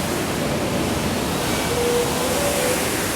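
Steady broadband rush of Sawmill River water pouring into storm grates at the south end of Sullivan's Pond, a constant loud wash with no breaks and no voices.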